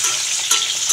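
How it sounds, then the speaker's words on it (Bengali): Potato pieces seasoned with salt and turmeric sizzle in hot oil in a pan, a loud, dense, continuous crackle heard close up, with no talking. "তো আলুটা ভাজা হয়ে যাক"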